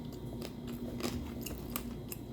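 Quiet, close crunching bites and chewing of potato come in a loose rhythm of short, crisp bursts over a faint background hum.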